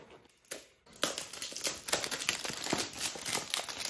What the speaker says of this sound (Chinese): 那我们先把它拆开来。